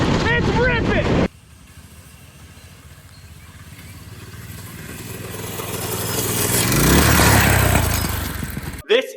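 A homemade go-kart engine drives past, its buzzing roar swelling louder as it nears and then cutting off abruptly, following a short burst of excited shouting.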